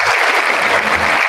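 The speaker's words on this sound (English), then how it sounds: "Can we have another round of applause?" A brief, loud burst of dense applause from a live studio audience, continuous throughout with no speech.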